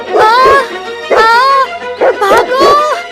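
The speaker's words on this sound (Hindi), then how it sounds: "उसी वक्त मीनू के पीछे एक जंगली कुत्ता पड़ जाता है" A wild dog barks and yelps in a mountain setting during a winter story, several sharp loud barks in quick bursts close by.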